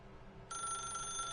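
A telephone ringing in the video game The Stanley Parable, a bright electronic bell tone that starts abruptly partway through and holds steady and clear over a faint background hum, with no talk.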